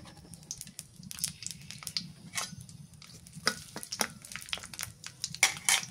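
Bay leaves with green and black cardamom sizzle in hot oil in a pan over a village clay stove, a soft steady crackle with scattered sharper pops and spoon-stirring clicks, no talking.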